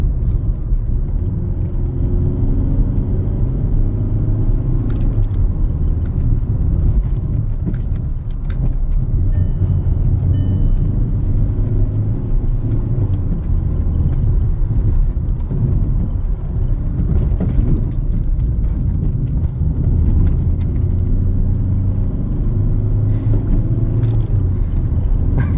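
A 2005 Skoda Octavia 1.9 TDI on stock suspension and winter tires is driven hard, its diesel engine and road rumble droning loudly and continuously from inside the cabin, rising and easing with brief shifts.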